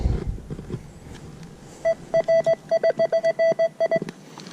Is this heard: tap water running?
no